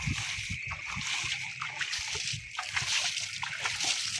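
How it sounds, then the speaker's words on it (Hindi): Water poured over a dirty cart to wash it, heard as close irregular sloshes and splashes against the surface, with no talk. "मैं पानी डालता हूँ, ये सारी साफ़ हो जाएगी।"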